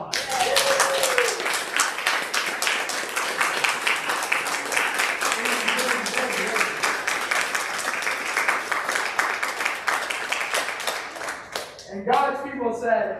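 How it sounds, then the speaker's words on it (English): A church congregation at a Sunday worship service at Oro Valley United Church of Christ claps in a dense, steady round of applause for about twelve seconds, then it fades and a voice speaks briefly at the end. "now you can round of applause"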